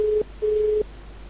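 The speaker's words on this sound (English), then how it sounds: "That's it ringing." Two long electronic ringback tones on a phone line, a short beep then a longer one, steady and clear with a brief pause between.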